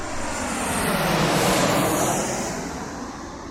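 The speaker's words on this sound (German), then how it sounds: "Ich habe das Flugzeug beim Landen hier am Ende der Flugpiste aufgenommen mit meinem Roland Edirol Digitalrekorder." A fixed-wing airplane landing at Gander Airport, heard from the end of the runway: a loud, broad engine roar swells to a peak and eases away, with no voices.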